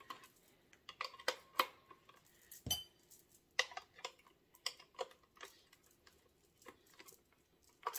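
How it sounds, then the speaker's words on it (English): Metal beaters for a hand mixer clicking and clinking as they are fitted into place, a string of sharp close ticks and taps with short pauses between, no talking. "So I'm going to get our beaters all together here."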